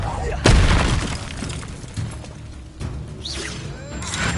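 A Confringo fire spell bursts in Hogwarts Legacy combat, a loud booming blast with shattering crackle that decays under ongoing battle effects, followed by further whooshing spell sounds.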